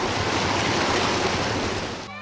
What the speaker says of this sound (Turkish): İki ırmakta kaynak su akarken kayaların arasından da soğuk ve kükürtlü su fışkırıyor.